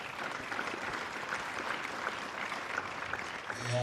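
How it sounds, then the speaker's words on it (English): Applause at an elections-process conference in Freetown, Sierra Leone: a steady, fairly faint patter of clapping from the audience, lasting several seconds. "a big applause"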